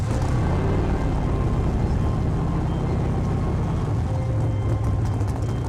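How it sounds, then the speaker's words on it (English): A loud V8 petrol engine of a Batmobile replica roars steadily and continuously, a dense rumbling drone without pauses. "there's nothing like hearing that V8 roar"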